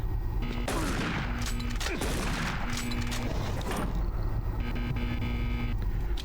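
Shotgun blasts in Doom 3, several heavy booming shots in quick succession over a droning game ambience, loud and close.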